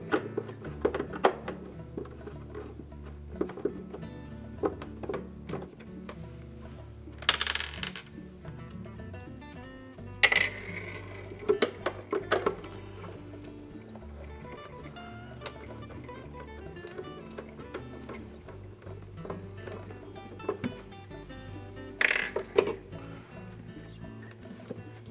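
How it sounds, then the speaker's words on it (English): Two 1/4-inch hex head screws are backed out of the access cover on a Whirlpool refrigerator during an auger drive motor repair, with a dense run of small metallic clicks, ticks and rattles throughout and a steady low hum beneath. "So remove these 2 1/4-inch hex head screws that hold the access cover in place."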